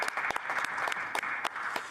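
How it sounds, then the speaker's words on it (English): Applause fills the House of Commons chamber in Parliament as a dense, steady wash of many hands clapping, moderately loud and continuous, with a few sharper claps standing out. "We can give him a round of applause"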